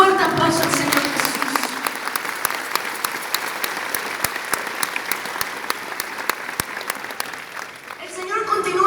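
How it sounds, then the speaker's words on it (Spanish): A church congregation applauds loudly and steadily for the Lord Jesus, dense clapping that fills the room, with sharp individual claps standing out, then tapering as a voice returns at the end. "Dale un fuerte aplauso al Señor Jesús."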